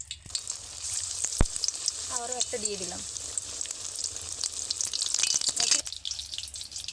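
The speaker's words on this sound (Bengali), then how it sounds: "একই রকমভাবে আমি আবারও একটা বানিয়ে কড়াইতে দিয়ে দেব" Tomato chops coated in gram-flour batter fry in oil in a kadai, giving a soft steady sizzle close by while someone talks briefly over it.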